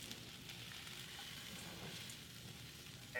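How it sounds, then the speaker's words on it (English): Faint, steady sizzling of kale frying in a pan, a soft continuous hiss with no talking. "You can still hear the sizzle."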